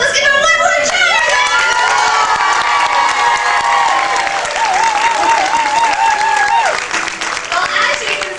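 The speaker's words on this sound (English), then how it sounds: "Let's give them a level of cheer!" A large crowd at a tiger show in an amusement park cheers, whoops and applauds loudly and continuously, with children's shouts rising above steady clapping throughout.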